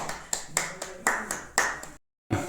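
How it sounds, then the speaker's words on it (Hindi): Handclaps at a village celebration program in India, a handful of distinct, sharp claps in an irregular rhythm, followed by a brief silence and one more clap. "ताली तो हो जाए जी।"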